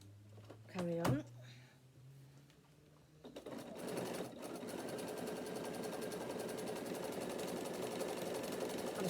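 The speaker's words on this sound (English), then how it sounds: "I'm stitching on the very edge" Sewing machine topstitching along the very edge of a long bag strap, about an eighth of an inch in, running steadily and closely after a few handling knocks and a quiet pause.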